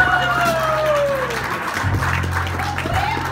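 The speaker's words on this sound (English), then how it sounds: "Give him a nice round of applause" Applause from a blues concert audience at a club, a short steady burst of clapping with some crowd noise and voices mixed in.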